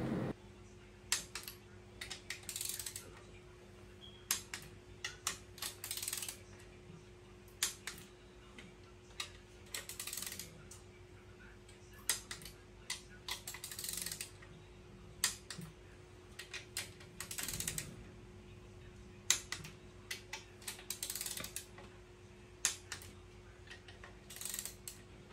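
A torque wrench tightening crankshaft bolts on a Honda B20 VTEC engine build gives repeated sharp mechanical clicks in uneven bursts over a steady low hum, close and fairly crisp, with brief pauses between sets.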